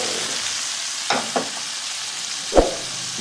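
Longganisa sausage frying in oil: a steady, close sizzle throughout, with a few brief scraping stirs near the start and a sharper clatter near the end, no voices.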